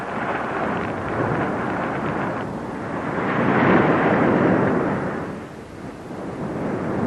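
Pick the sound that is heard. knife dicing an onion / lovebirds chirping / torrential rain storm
torrential rain storm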